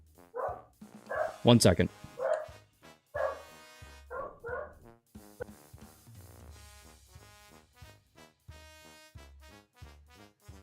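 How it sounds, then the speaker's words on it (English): A deaf pet dog barking in alarm at home: a burst of loud, close barks and yips early on, then quieter whimpers and intermittent yelps over a low steady background, with a brief spoken word. "let me go double check what my dog is freaking out about."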